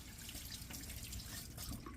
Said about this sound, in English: Just run them under the faucet.